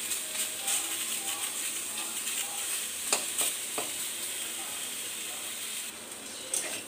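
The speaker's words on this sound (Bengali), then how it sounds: "দেখো এখন একটা ঢাকনা দিয়ে ঢেকে আমি কিন্তু কাঁকরোলটাকে ভালো করে ভেজে নেব বেশি তেল কিন্তু ব্যবহার করবে না" Teasel gourd (kakrol) frying in a pan with very little oil under a lid gives a steady, soft sizzle with a few faint clinks of utensils.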